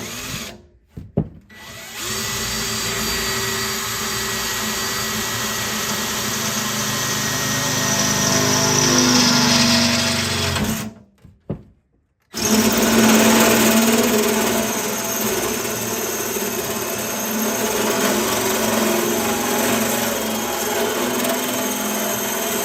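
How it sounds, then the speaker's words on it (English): Power drill boring through the steel body of a Dodge M37 truck while fitting a battery cut-off switch, a loud steady whine running in long stretches with two short pauses, no talking. "let's see if we can get this drilled"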